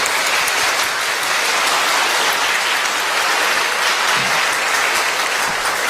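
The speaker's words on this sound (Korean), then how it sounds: "함께 박수로 환영해 주시면 감사하겠습니다" A church congregation at a Sunday service applauds in welcome, with loud, dense, continuous clapping filling the sanctuary evenly for the whole stretch.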